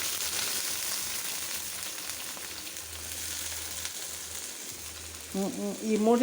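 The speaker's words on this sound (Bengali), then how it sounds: "তেলের উপরে এটা পেঁয়াজ রসুন কাঁচামরিচ হলুদ মরিচ পাউডার লবণ আমি পেস্ট আগে দিয়ে দিচ্ছি" Onion, garlic, green chili and a spice paste of turmeric, chili powder and salt frying in hot oil give a steady, close sizzle throughout, with a brief burst of voice near the end.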